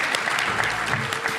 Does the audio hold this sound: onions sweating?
no